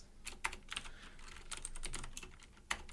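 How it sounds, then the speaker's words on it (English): Typing on a computer keyboard while coding: a faint, steady patter of soft key clicks with a few sharper louder taps spread through it, close by and with no speech. "Can't type today apparently. It's because I'm not even looking at my keyboard."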